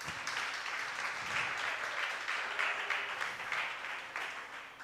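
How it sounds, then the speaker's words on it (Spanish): A church congregation applauds during a sermon, a sustained wash of many hands clapping at moderate, even volume, heard from some distance in a reverberant room. "Alabe al Señor y dele un aplauso"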